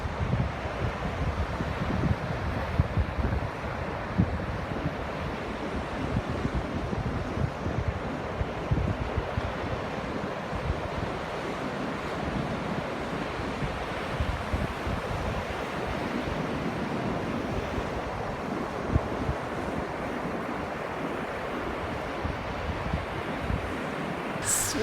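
Surf and wind on a Northern California beach, a steady broadband wash of breaking waves with gusting wind noise across the microphone, continuous and fairly loud with no voices.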